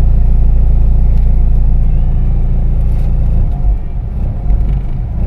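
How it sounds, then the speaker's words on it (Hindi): A car engine runs steadily just after starting, a loud close rumble that settles into a lower, uneven idle near the end, with no talk. "ये देखो ये स्टार्ट छोड़ दिया, गाड़ी स्टार्ट हो गया अपना"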